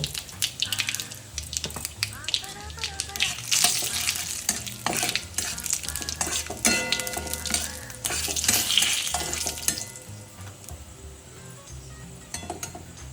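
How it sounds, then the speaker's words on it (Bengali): Whole cumin, cumin powder, a dried red chilli and two bay leaves sizzle in hot oil for a tempering, a steady close hiss under clinking spoon stirs and scraping, easing off toward the end. "একটু জিরে গুঁড়ো, গোটা জিরে দিলাম আর 2টো তেজপাতা দিলাম ফোড়নে।"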